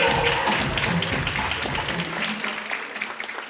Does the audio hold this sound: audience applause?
yes